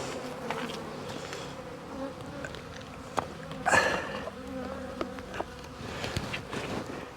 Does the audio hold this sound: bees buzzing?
yes